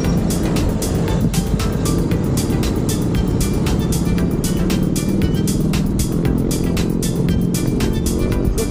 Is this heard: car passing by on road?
yes